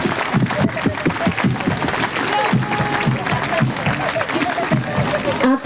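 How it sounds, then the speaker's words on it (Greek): An audience at an end-of-year children's nursery festival in the Old Stadium on Kos claps for the little ones, with rhythmic, moderately loud applause running beneath an announcer's amplified voice. "Ένα δυνατό χειροκρότημα στα μικρά μας!"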